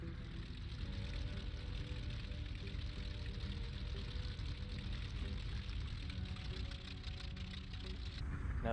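An FW-190's BMW radial engine idles in Flight Simulator 2020, a steady low knocking drone that stays even throughout with a brief dip near the end, and no talking.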